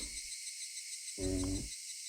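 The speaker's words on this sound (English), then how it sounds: "Only the cry of the cicadas remained, annoyingly loud" In the video game Higurashi, a constant high-pitched buzz of cicadas drones throughout, loud and unbroken, with a short low tonal sound rising briefly in the middle.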